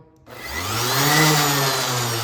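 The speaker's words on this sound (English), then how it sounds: "So here's our sander, here's our switch. Switch it on." An orbital sander, just fitted with new brushes, switches on and spins up from silence into a steady, loud motor whine that holds close and constant to the end.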